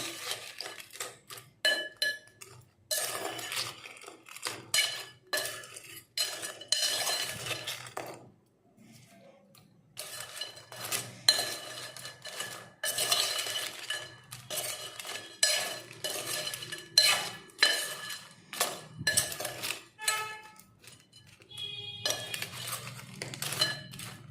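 A ladle scrapes and clanks against a metal pot while crab curry is stirred and mixed by hand in a home kitchen, an irregular run of close, clattering knocks with a brief pause partway through.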